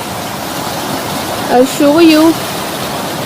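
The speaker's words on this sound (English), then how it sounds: "like the water falling from the hill." Steady rushing water from the Leimaram waterfall in Manipur, pouring down a hillside, forms a constant broadband wash while a person talks briefly over it.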